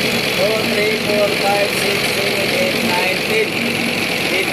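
A boat's engine runs at a steady idle, a continuous droning hum with faint tonal whine, while someone talks over it.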